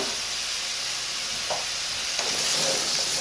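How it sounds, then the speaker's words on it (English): Kohlrabi sautéing in a hot pan gives a steady, close sizzle and hiss, with a few soft stirring scrapes rising briefly above it. "we're just going to drop the kohlrabi in there"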